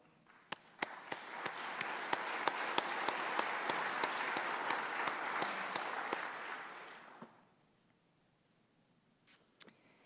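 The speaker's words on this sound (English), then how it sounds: "Deborah, will you please stand for a round of applause?" A university winter convocation audience gives a round of applause, steady clapping from a large room with a few sharp close claps on top, fading out after about seven seconds into near silence with a couple of stray claps.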